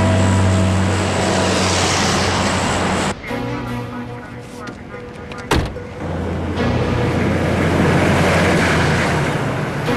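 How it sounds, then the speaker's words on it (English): C-130 transport aircraft flying, a loud continuous roaring drone with propeller hum that drops and thins briefly midway, marked by a sharp bang, then swells back to full roar. "C-130 airborne."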